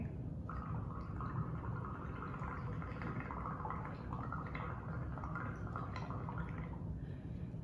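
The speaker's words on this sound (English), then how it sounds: "you're gonna blow enough bubbles that so they rise above the edge of the container you're using" Someone blows through a straw into paint in a container, producing a steady bubbling, gurgling burble that continues evenly and softly throughout, with no talk over it.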